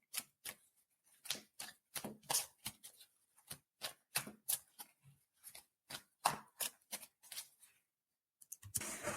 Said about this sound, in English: I'm going to shuffle again and then we'll see what comes up.